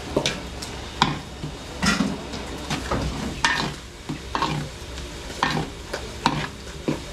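Carrot, potato, garlic and onion fry in a pan while being stirred, with a steady sizzle and repeated scraping strokes of a spoon or spatula at close range, no talking.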